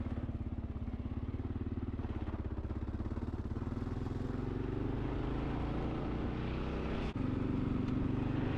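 A Kawasaki KLR 650 dual sport motorcycle riding two-up on an off-road trail in Idaho's Owyhees, its single-cylinder engine thumping steadily and close, pulsing evenly throughout.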